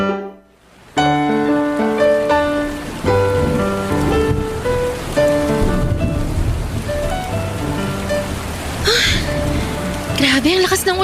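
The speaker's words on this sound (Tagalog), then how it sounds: "Grabe, ang lakas ng ulan." Heavy rain pours down in a Filipino drama scene set near a roadside waiting shed, a steady dense hiss running the whole time beneath loud dramatic background music.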